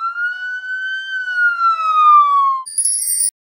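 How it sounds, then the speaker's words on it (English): A single police car siren wail glides slowly up and then down in pitch, loud and clean with nothing else around it, ending in a brief tinkling chime. "Police car."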